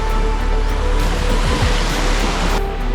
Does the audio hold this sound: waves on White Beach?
yes